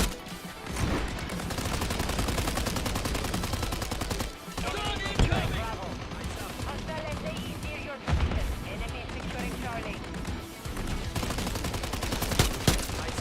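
Rapid gunfire from a shooter video game, with dense bursts of automatic shots running almost without pause and brief gaps, while someone talks over it throughout.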